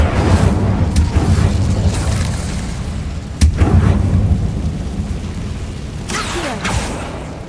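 A rumbling, booming roar from the Incendio fire spell in Hogwarts Legacy, loud and sustained throughout, with a sharp crackling burst midway and whooshing flares near the end.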